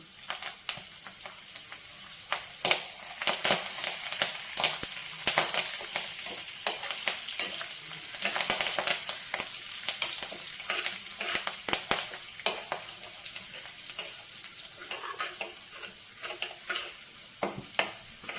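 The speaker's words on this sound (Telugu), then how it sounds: "తాలింపు చక్కగా వేగింది కదా" A tempering of urad dal, mustard seeds, cumin, dried red chilies and curry leaves fries in hot oil, giving a continuous close sizzle with frequent sharp crackles and pops while the pan is stirred, with no voices.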